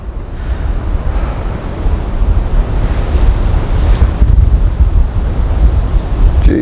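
Strong wind buffets the microphone outdoors at what may be a coastal spot, a loud continuous low roar with gusty rumbling throughout and no voices.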